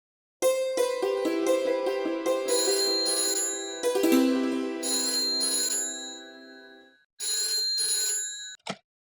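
A melodic electronic ringtone plays loudly, repeating its tune for several seconds, then pauses and chirps again briefly before stopping.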